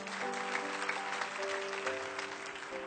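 Church congregation applauding steadily throughout, dense broadband clapping with a sustained musical tone held underneath and no pauses.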